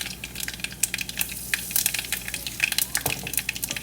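Asafoetida hits hot oil in a pan for pepper rasam, giving a close, steady crackling sizzle with dense pops throughout.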